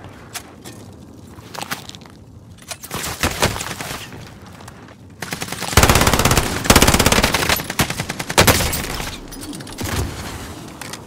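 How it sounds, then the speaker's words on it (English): An enemy sentry gun in a video game fires in rapid automatic bursts, sparse sharp shots at first building into dense, loud sustained volleys in the second half, mixed with game clatter. "Enemy sentry gun active."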